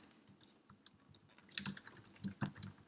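Code being typed on a computer keyboard: quiet, irregular clicks of keystrokes that grow denser and louder toward the end, with small bursts of several keys pressed together, alone with no talking.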